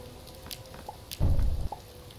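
Rain patters in Starbound with light scattered drops, then a brief heavier rumbling burst in the middle before it settles back to a soft patter.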